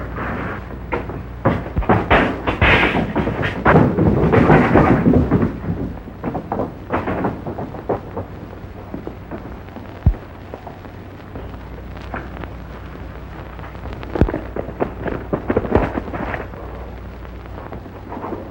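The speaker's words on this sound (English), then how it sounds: "What was that? Sounds like an explosion." A heavy boom erupts as an express office explodes, amid rumbling, crackling noise, followed by scattered thuds and bangs over a steady low background.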